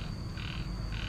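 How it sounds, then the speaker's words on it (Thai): Frogs croak in a dense, continuous chorus from a rural pond or paddy area, a steady wash of overlapping calls with a thin high tone running through, no talking. "เสียงกบหรือเขียด"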